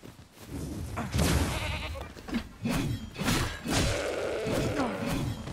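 Goats bleat in the Dragon's Dogma 2 video game, several wavering calls repeating close by over a thumping, busy background.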